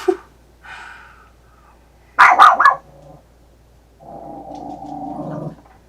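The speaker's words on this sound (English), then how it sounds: "She's barking at a mayfly." A single close dog bark at a mayfly stands out, surrounded by soft huffing and a low growly rumble before and after; no speech.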